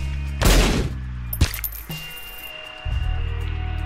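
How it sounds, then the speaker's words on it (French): A bomb goes off in The Binding of Isaac Rebirth as one loud, sharp burst followed by a shorter crack, then lighter game clatter and a steady buzzing game tone. "Ça j'ai juste posé une bombe."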